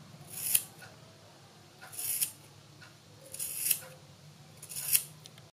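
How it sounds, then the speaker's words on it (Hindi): Scissors snip through wool yarn while trimming a pom-pom, four crisp cutting strokes spaced about a second and a half apart, close and fairly quiet against a still room. "बीच में से हम इस तरह से कैंची डालते हुए चारों तरफ से अपनी ऊन की कटिंग कर लेते हैं।"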